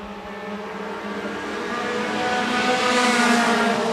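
Late model stock cars roar down the front stretch at Shelby County Speedway, several engines close together in a loud, sustained drone that builds steadily as the pack approaches.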